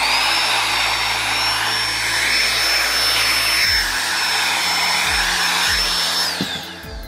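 A hair blower blowing on a shirt gives a loud, continuous whooshing roar with a steady high whine, close and alone, and a few low thumps near the end.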